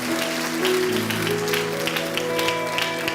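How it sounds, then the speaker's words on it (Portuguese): Congregation at a church service applauds with steady, dense clapping for about three seconds, while sustained keyboard or organ tones hold underneath. "Dê mais um aplauso ao Senhor"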